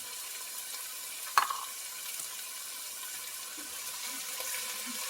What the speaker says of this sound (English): Stirring occasionally until it thickens and caramelizes around the edge of the pan